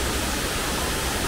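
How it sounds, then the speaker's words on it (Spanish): A waterfall in Osa, Costa Rica, pouring into a river, heard as a steady loud broadband rush of water with no voices. "Y después la cascada se va por acá, por este río, y llega al río Térraba"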